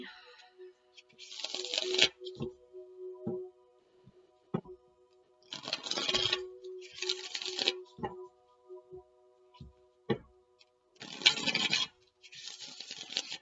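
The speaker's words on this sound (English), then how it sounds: "One more shuffle and then I'll cut." Several bursts of tarot card shuffling, riffles and shuffles separated by pauses with soft taps and clicks, close and moderately loud.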